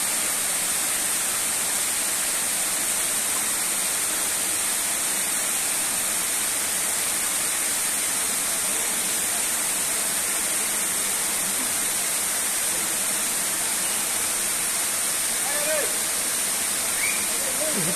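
A small waterfall pours down a rocky face in a steady, dense roar that fills every moment; a few faint, brief sounds surface near the end, but the water dominates throughout.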